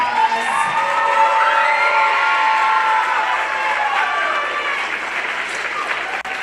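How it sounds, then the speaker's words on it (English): Audience at a school Christmas concert gives a loud, sustained round of applause mixed with cheering and children's shouts and whoops, steady and close throughout. "Let's give them another big round of applause."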